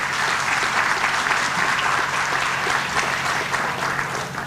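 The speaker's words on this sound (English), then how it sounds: "can we please give another round of applause for our award recipients?" Steady, dense clapping from an audience at a high school senior awards night honoring award recipients, the applause holding at an even, full level throughout.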